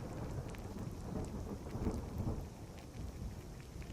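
Steady rain pours with low rolling thunder in the Skyrim video game, a dense continuous wash of rainfall with deep rumbles underneath and no voices.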